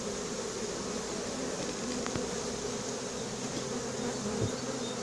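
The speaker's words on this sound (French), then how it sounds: "Une belle quantité d'abeilles là." A swarm of honeybees buzzing in a continuous low, dense drone, close and steady, with no voices over it.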